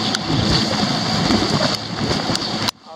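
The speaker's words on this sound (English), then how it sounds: "It's raining. Just a little bit of rain, but I don't want this rain." Rain and wind hit a small fishing boat on choppy, whitecapped water, a steady broadband hiss and patter over low wind rumble that stops abruptly near the end.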